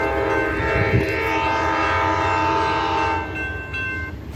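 An Amtrak passenger train rumbles close by arriving at the Tuscaloosa, Alabama station while its horn blares a long, loud, steady chord that fades near the end.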